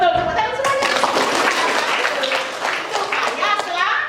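Indoor classroom clapping from a group of students, steady and sustained for several seconds, mixed with children's voices and chatter throughout.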